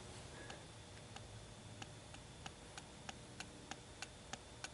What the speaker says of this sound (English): It's only because the pendulum is slamming against the plastic supports on this side and the other side.